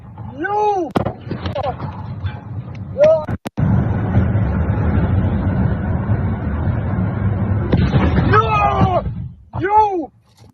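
Missile strikes and explosions in news footage, heard as a sustained loud roaring rumble of blasts and gunfire-like impacts lasting several seconds, with speech before and after.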